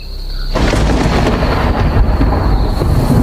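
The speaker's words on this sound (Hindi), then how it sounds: "बिजली की कड़क और हवा की सनसनाहट माहौल को और डरावना बना रही थी" A heavy thunderstorm with rain. A loud, close rumble of thunder breaks in after a quiet start and rolls on under a dense, steady wash of rain.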